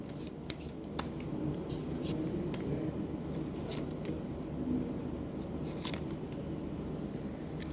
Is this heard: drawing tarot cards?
yes